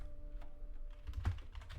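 Fingers type on a computer keyboard, a few soft, close key clicks scattered over a couple of seconds at low volume.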